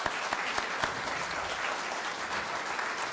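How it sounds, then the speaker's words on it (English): An audience at a city council candidate forum in Loganville applauds steadily, dense close clapping with no pauses and no voices over it. "let's give the candidates a round of applause"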